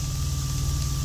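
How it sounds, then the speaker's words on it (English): Shrimp and scallops sizzle on a hot grill, a steady broadband hiss under a constant low hum, loud and close throughout with no talk. "Y'all hear that sizzle?"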